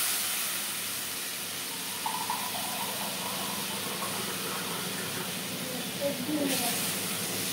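Water poured into a hot pan of fish curry gives a loud, continuous steamy hiss that lasts throughout, with a few faint clinks near the end.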